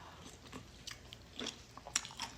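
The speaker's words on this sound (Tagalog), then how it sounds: "Malutong yung gulay kasi hindi ko siya masyadong niluto ng sobra" Someone chews lightly cooked, crunchy vegetables, a few soft bites and crunches close to the mic in a quiet setting.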